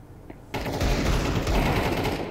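Rapid automatic gunfire in the video game Counter-Strike 2 bursts in abruptly after a brief quiet moment and hammers on loud and close for about two seconds without a pause.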